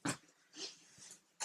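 A small female dog stands on a person during a makeup session, making short panting breaths and soft whimpering sounds in three brief bursts, near and quiet, with no talk.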